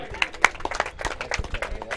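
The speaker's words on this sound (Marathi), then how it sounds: "एकदा जोरदार टाळ्या दोन्ही संघांच्या खेळाडूंसाठी" Applause from spectators at a village sports final for both teams' players, scattered claps mixed with crowd noise and running footsteps, with talk over it throughout.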